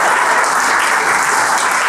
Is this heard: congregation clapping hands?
yes